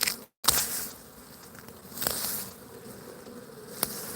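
Honeybees buzz steadily at a hive entrance outdoors as a swarm is hived and walks in, a close, continuous drone broken by a few soft rustles and taps.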